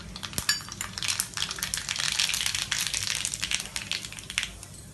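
Mustard seeds hit hot oil in a kadai while cooking kadai chicken masala, crackling and popping in rapid, dense bursts that fizz continuously, close and bright.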